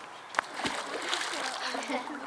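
An otter belly flops into its pool at a British wildlife centre, making one sharp splash followed by softer sloshing water, with faint voices in the background.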